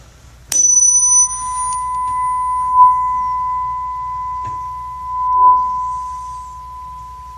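A clear, pure ringing tone, the next harmonic of a standing wave, starts with a sharp strike and holds steadily for several seconds, slowly fading, with faint higher overtones.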